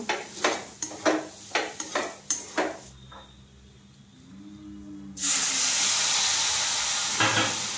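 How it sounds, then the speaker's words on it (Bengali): A spoon scrapes repeatedly through semolina halwa in a pan, rhythmic clinks for a few seconds, then a brief lull before milk is poured in and a loud, steady sizzling hiss takes over. "আবারও বাকি 1/2 কাপ দুধ দিয়ে আবারও এরকমভাবে নেড়ে নেড়ে কিছুটা ঝরঝরে করে নেব।"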